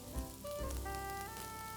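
Vegetables sizzling softly as they fry and caramelise in a pan, a faint, steady crackle under some tonal kitchen hum, with no talk.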